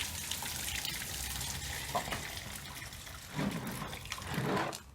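Hot water gushes and splashes steadily out of a car radiator during a flush on a Mini John Cooper Works, with louder surges toward the end, close by and without talking.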